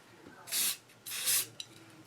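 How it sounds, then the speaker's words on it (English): Two short hissing bursts of aerosol spray aimed at an altered old Mickey watch decorated with rhinestones, close and fairly loud, followed by a faint tap and quiet room noise. "hopefully I can spray this without sending the rhinestones and things everywhere"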